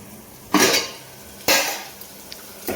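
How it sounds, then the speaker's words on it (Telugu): Onions being stirred with a spoon in a lidded pan while they soften for an egg and dried prawn curry, heard as three sharp metallic scraping strokes against the pan, close and fairly loud, with quiet gaps between them. "మధ్యలో ఒకసారి మూత ఓపెన్ చేసి ఇదంతా ఇలా కలుపుకోవాలి."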